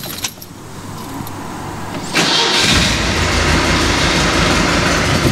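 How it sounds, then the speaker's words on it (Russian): A carbureted car engine cranks briefly and catches, then settles into a loud, steady rumbling idle that continues close by with no voices. "Машинка завелась."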